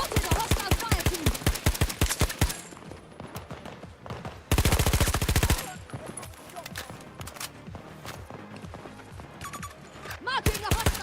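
FAMAS rifle fire in a first-person shooter video game, loud rapid automatic bursts cracking in quick repeated volleys with brief pauses and a dense sustained burst in the middle, game voice callouts heard underneath.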